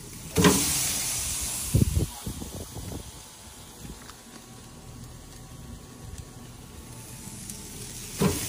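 Lime-marinated carne asada hitting a hot grill, a loud burst of sizzle followed by a steady close frying hiss, with a few thuds and clatters early on and another sharp hit at the end.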